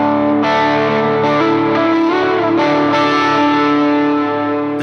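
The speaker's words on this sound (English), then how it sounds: "I can get both the Mojo Mojo and the DS1, so that I can switch between them from this sound" Electric guitar driven through Mojo Mojo and DS1 overdrive and distortion pedals, loud and saturated with a few sustained strummed chords that ring into each other, heard alone.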